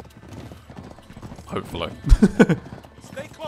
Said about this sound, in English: How does Nate know how to ride a horse?